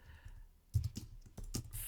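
Typing on a computer keyboard, with irregular bursts of close clicking keystrokes that come in quick clusters and are separated by short pauses.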